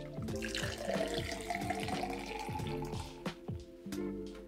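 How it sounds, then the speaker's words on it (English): Soda water pours and fizzes into a Collins glass to top off a gin cocktail, a close, soft, continuous gurgling stream with bubbly pops, steady throughout. "And the last thing you have to do is just top it off with some soda water."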